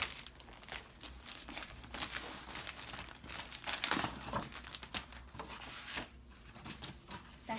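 Packing paper crinkles and rustles inside a package of unicorn bedding as it is unzipped and opened, a dense, continuous rubbing crackle with louder bursts around the middle, close and alone.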